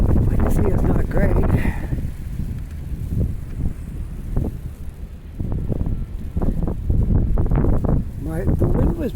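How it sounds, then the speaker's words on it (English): Strong wind in a snowstorm blows along Duke Street downtown, a heavy, close buffeting roar against the microphone that rises and eases in gusts, with someone talking over it. "the wind blowing right up and down Duke Street"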